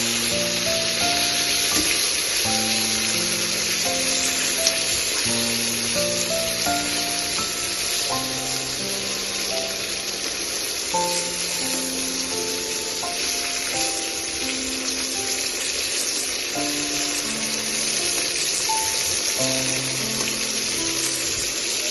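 Pointed gourd with mustard sizzles and fries in a pan as it is stirred, giving a continuous low crackle under a steady melodic background tune that plays throughout, with no voices.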